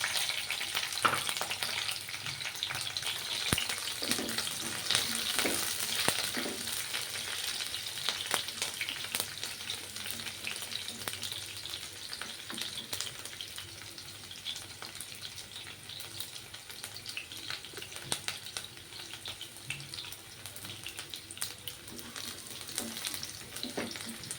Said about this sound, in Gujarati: આપણું તેલ ગરમ થઈ ગયું છે તો એમાં કેપ્સિકમ મીડિયમ સાઇઝનું હતું તેને મેં લાંબુ સુધારી લીધું છે તે એડ કરીશું